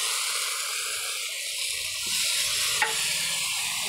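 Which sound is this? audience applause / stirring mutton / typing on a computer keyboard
stirring mutton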